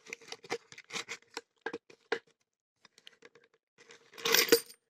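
Keys supplied with a Holy Power padlock clink and jingle in a series of short metallic taps, close and fairly quiet, ending in a brighter, louder rattle of metal.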